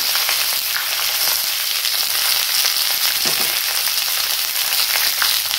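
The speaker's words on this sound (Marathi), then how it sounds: "याला छान परतून घ्यायचं आहे।" Chillies and onion sautéing in oil in a pan for an onion-tomato masala give a steady, close, fairly loud sizzle throughout, with faint stirring scrapes and no talking.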